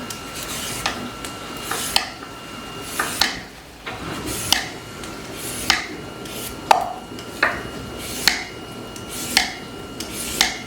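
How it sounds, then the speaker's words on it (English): Three big sweet potatoes are peeled in a home kitchen, giving a steady series of rasping scrapes about once a second, close and fairly loud, with no talking. "I'm going to start peeling my sweet potatoes and get those ready."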